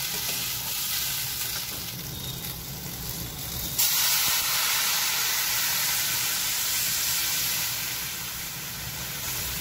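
Water poured into a pan of lightly frying vegetables for a winter fish recipe produces a loud, steady sizzle and hiss that jumps brighter and fuller partway through, then keeps bubbling continuously, with no talking.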